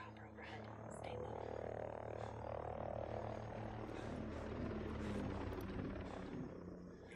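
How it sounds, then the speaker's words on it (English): A helicopter in a military raid mission video game, a steady dense rotor drone holding at even loudness throughout, like a chopper passing overhead, with no talk. "We got a chopper overhead."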